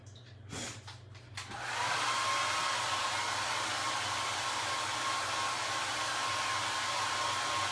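A hair dryer blows steadily on a Dollar Tree egg carton craft, a loud continuous airy whoosh that starts after a few soft knocks and holds evenly to the end.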